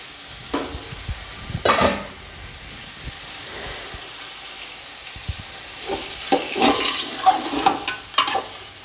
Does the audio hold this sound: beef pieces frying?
yes